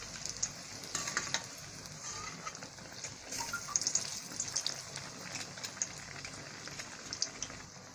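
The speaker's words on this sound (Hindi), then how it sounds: "अब हम इसकी दूसरी साइड फ्राई कर लेंगे।" Bread pakora fries in hot oil, giving a faint, steady sizzle with soft crackles and bubbling spread through the whole stretch, without talk.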